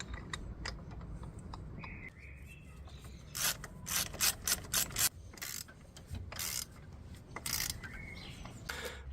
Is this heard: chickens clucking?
no